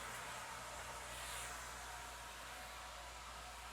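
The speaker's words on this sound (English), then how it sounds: "So I'm going to turn my vacuum on." Workshop vacuum pump running while thermoforming a composite upright, a steady broadband whooshing roar with a low hum underneath, constant and quiet, with no talk.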